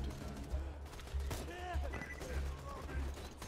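Gunfire from the video game Borderlands 2 rattles in repeated bursts against a low engine-like drone, with a sharp blast near the middle and brief electronic game tones.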